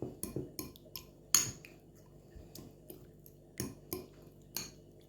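Rice is mashed finely with a metal utensil, giving sharp scraping clinks and soft squishes in short irregular strokes, close and fairly quiet, with no talking.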